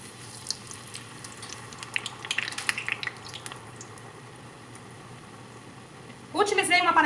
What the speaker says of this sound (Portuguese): E agora, vamos fritar os bolinhos.